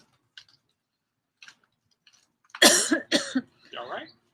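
A few faint clicks and ticks, then a burst of three sharp, loud coughs close by, followed by a rougher throat-clearing cough.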